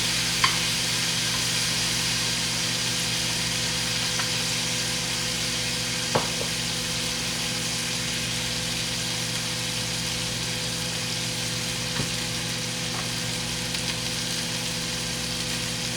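A steak sizzles steadily in a hot pan over a flame, a constant close frying hiss with a low hum beneath it and a few faint clicks from utensils, with no talking.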